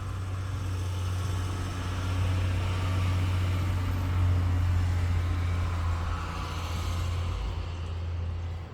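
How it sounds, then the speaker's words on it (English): Road traffic passes outside as a steady low rumble of engines and tyres, fairly faint and continuous, with no talking over it. "Sorry about the traffic today,"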